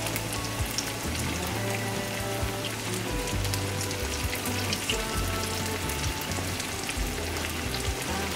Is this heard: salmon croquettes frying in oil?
yes